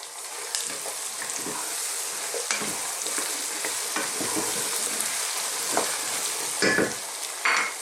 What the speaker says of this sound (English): I'm going to add the next hardest vegetable in, which is our potato or aloo